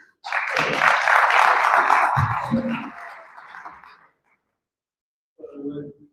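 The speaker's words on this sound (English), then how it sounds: "Let's have a big round of applause for Meridian." Audience applause at a live Shark Tank-style pitch event in Las Vegas, a dense broadband roar swelling for about four seconds, tapering off, then silence before a brief voice returns.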